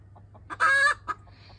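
A caged chicken squawks once in a short, loud, sharp burst, with a few soft clucks before and after, close by over a quiet low hum.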